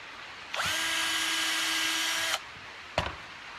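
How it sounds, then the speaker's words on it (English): A power drill bores connector holes into a frame in one loud, steady whine lasting nearly two seconds, followed by a short sharp burst as it spins briefly again, heard up close. "then drill the last single connector hole on each one that will lock the frame together"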